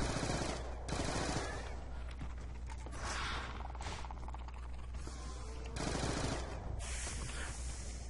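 Sub machine gun fire in the Die Rise video game, rapid bursts of automatic shots rattling in repeated clusters, loud and continuous, with no talking.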